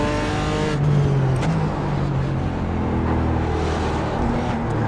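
BMW M4 GT4 race car engine in iRacing, a loud steady drone with a shifting engine note, holding close and constant with no talk.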